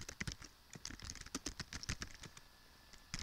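Rapid, uneven typing on a computer keyboard, with clustered key clicks and short pauses, close and fairly clear, no talking.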